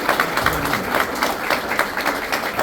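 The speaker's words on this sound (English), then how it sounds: "one round of applause for all the elected officials" A round of applause for elected officials at a Crestwood School Board campaign event, with a crowd clapping steadily and fairly close, a dense patter that carries on without a break.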